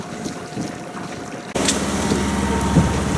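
A sailboat motors out of Pula Veruda harbour along the Istrian coast in Croatia, with steady wind buffeting and water rushing around the hull, growing louder and rougher halfway through.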